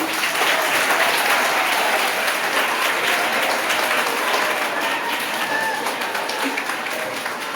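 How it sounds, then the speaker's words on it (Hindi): Students and staff at a school speech competition applaud a jury member being introduced, a dense, loud, continuous wash of clapping from a large crowd that tapers slightly toward the end. "जोरदार तालियां के लिए"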